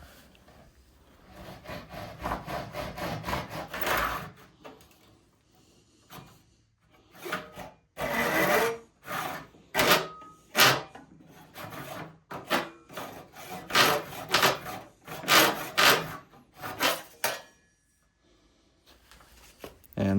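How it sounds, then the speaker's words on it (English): A hand saw cuts through a wooden dowel clamped in a vise, giving bursts of rasping back-and-forth strokes, close and clear, with pauses between runs of strokes. "watch it flop around in the breeze while we're trying to get the vise closed on it. And we'll give her a little cut."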